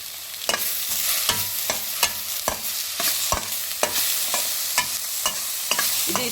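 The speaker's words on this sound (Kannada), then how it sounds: "ಅದನ್ನು ಕೂಡ ಈ ರೀತಿಯಾಗಿ ಫ್ರೈ ಮಾಡಬೇಕು." Ingredients for pea curry fry in a pan while a utensil stirs them, giving a steady close sizzle broken by regular sharp scraping clicks about every half second.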